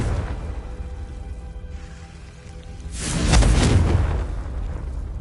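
Confringo blasting spell in Hogwarts Legacy, a single broad booming blast that swells up after a low rumbling backdrop and fades over about two seconds, loud and full-bodied.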